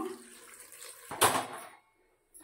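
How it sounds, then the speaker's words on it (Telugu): Water splashes briefly into a cooking pot of gongura dal, a short gushing pour following faint background noise, then quiet. "ఇప్పుడైతే వాటర్ యాడ్ చేస్తున్నాను."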